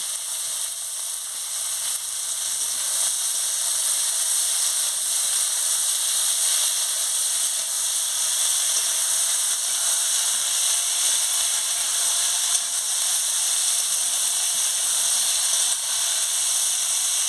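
Continuous bright sizzle and hiss of vegetables (ridge gourd, snake gourd, potato) added to hot oil with fried onions, steady and close, with no talking.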